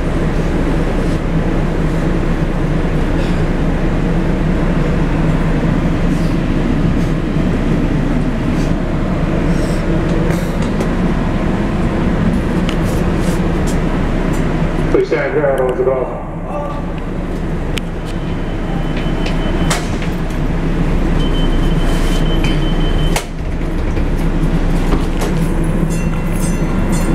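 A passenger train ride on the Daylight Express, with a continuous loud rumble of wheels on rails and a steady clatter, faint voices, and a brief squeal and dip partway through.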